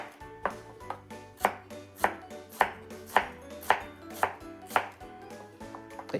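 Knife chopping onion into roughly one-centimetre strips along the grain on a cutting board, about a dozen steady, evenly spaced crisp chops close by with no talking.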